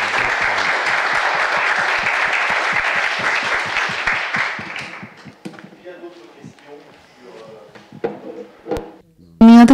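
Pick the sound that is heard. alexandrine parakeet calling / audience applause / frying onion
audience applause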